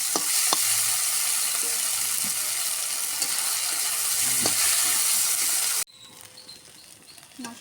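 A paste of green chili, ginger, garlic, coriander and cumin frying in a pan gives a loud, steady sizzle with stirring scrapes, then cuts off abruptly near the end, leaving faint quiet kitchen sounds.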